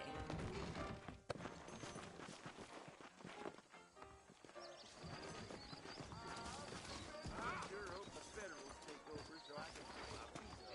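Saddled horses in the Red Dead Redemption video game, hooves clip-clopping steadily with a whinny mixed into a dense, busy game soundtrack and ambient noise, with voices talking over it.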